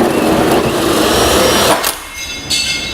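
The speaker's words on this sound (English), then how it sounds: "So now I'll take a hole saw that's the size that is listed in the instructions, and then I'll use that pilot hole in order to drill this out." A hole saw cuts through the metal bed of a 2008 Chevrolet Silverado while a fifth wheel trailer hitch is installed: a loud, steady grinding whir that drops off partway through, then returns briefly with a scraping edge.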